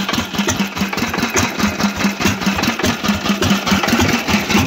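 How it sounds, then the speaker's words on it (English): A small 2.5 horsepower engine runs steadily nearby with an even, rapid chugging pulse, loud and unbroken, with no talk. "beautiful running little engine."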